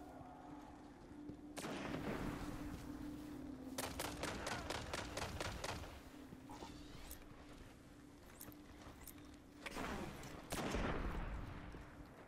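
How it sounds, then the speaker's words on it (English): Repeated gunfire in a video game, with clusters of sharp shots and a rapid burst of evenly spaced rounds, loud and close, over a steady background hum. "Is that you shooting?"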